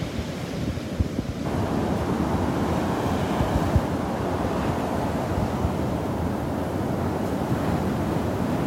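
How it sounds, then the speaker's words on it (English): Ocean waves breaking on a beach in North Naples, Florida, a continuous rushing surf with wind buffeting the microphone, steady and fairly loud with no voices. "Love the sounds of those waves."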